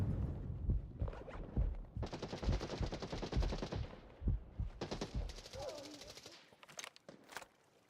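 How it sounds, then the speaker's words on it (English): Video game gunfire from enemies firing through holes in a wall, several rapid bursts of automatic fire with short gaps and a few single shots, fairly close, fading toward the end. "they're shooting through the holes over there"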